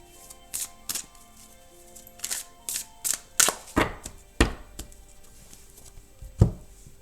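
A deck of French oracle cards is shuffled and cut, making a series of crisp, close slapping and riffling snaps that come irregularly, about a dozen distinct hits with quiet gaps between.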